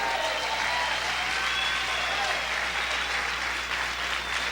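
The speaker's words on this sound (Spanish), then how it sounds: "Aplaude fuerte a tu Rey." A church congregation claps loudly and steadily for the whole span, a dense continuous wash of applause with voices mixed in, as if worshippers shout and cheer beneath it.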